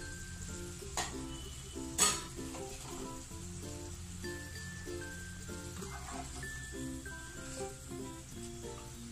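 Okra chips frying in oil, a soft, steady sizzle sitting beneath louder background music, with a couple of brief clinks near the start; fairly faint and continuous, no voices.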